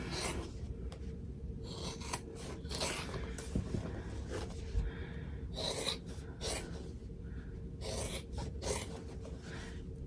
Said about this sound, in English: I cut up to the stitches, and then I cut all the way around.